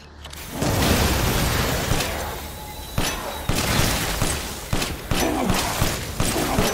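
Grenade blasts in Resident Evil Village's Mercenaries mode: a loud opening burst followed by a string of sharp, shattering bangs and thuds spaced about a second apart.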